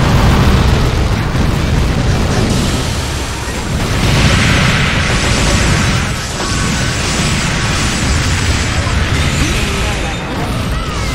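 Explosions in a MUGEN 1.1 fighting game match burst loudly and continuously for several seconds, with booming blasts layered over crackling, rumbling game effects that surge again partway through.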